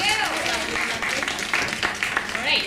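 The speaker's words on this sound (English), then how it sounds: "Give yourself a round of applause for being here." A theatre audience gives dense, sustained applause with cheering and whoops, loud and continuous throughout.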